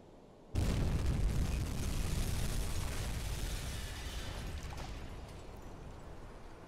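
A torpedo strikes a ship in a U-boat video game, bursting into a loud, deep explosion that then rumbles on and slowly fades over several seconds.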